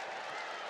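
A crowd roars at an MMA featherweight title bout, a brief, dense wash of cheering and clapping at steady volume with no clear break.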